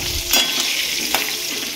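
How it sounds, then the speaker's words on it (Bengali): Fish frying in a pan at a hillside home kitchen gives a steady, close sizzle, with a couple of sharp clinks of a utensil against the pan. "মাছ ভাজা"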